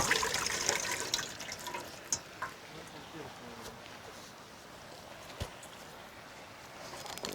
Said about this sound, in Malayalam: ഇതിൽ വെള്ളമൊക്കെ കളയാം നമുക്ക്.